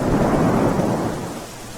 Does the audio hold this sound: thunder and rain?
yes